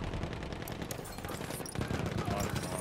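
Video game sniper gunfire rings out as a run of sharp, loud shots and blasts in a busy battle mix, with voices talking over it.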